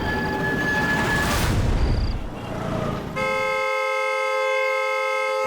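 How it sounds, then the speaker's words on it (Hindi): Loud, steady horn blaring continuously for several seconds, sustained and unbroken, amid traffic noise. "अरे कौन है ये नॉन स्टॉप हॉर्न बजा रहा है?"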